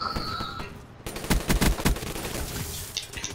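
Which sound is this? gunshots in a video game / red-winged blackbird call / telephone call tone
gunshots in a video game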